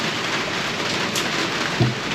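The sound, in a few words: heavy rain pouring outside a trailer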